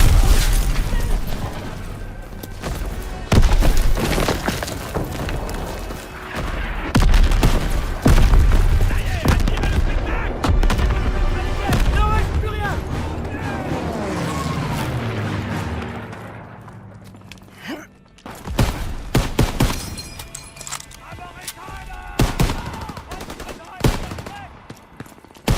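Heavy artillery booms and bursts of machine-gun fire rumble through a WW2 video game battle, dense and loud at first, easing into a quieter stretch before sharp volleys of shots return.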